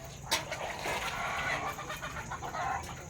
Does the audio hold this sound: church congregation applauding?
no